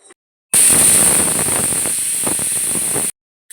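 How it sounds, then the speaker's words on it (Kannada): A pressure cooker cooking egg biryani releases steam in one loud, close, shrill whistling hiss that starts abruptly and holds steady for about two and a half seconds before cutting off. "ನೋಡಿದ್ರಲ್ವ ಈಗ ಒಂದು ವಿಸಿಲ್ ಬಂದಿದೆ ವಿಸಿಲ್ ಪೂರ್ತಿಯಾಗಿ ಇಳಿದಿದೆ"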